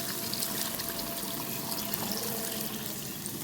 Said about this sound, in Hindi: अब इसमें यखनी शामिल करेंगे।